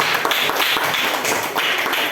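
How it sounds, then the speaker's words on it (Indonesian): Students in a classroom applaud a presenting group, a steady patter of hand claps and taps running through the whole stretch at even loudness, fairly close, with no talking over it. "tepuk tangan dulu untuk kelompok 2"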